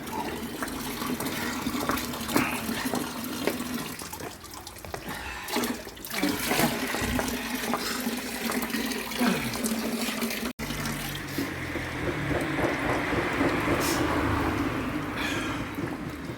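Water gushes steadily from a free public tap into containers, a continuous close splashing rush that runs unbroken for the whole stretch with no talking.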